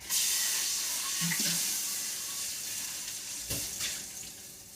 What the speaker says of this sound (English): I'm going to get rid of that and rinse it real quick.